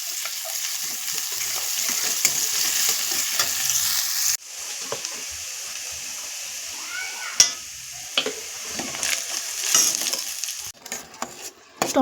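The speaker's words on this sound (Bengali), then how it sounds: "লাল করে ভেজে নেব।" Chopped onion with ginger-garlic paste fries in a pan for a village-style fish curry, giving a steady broadband sizzle with scraping stir sounds. The sizzle drops lower partway through, and there is one sharp clack.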